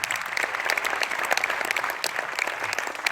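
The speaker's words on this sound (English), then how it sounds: "Big round of applause, everyone" Cinema audience at a Q&A breaking into sustained applause, dense steady clapping from many hands filling the room without pause.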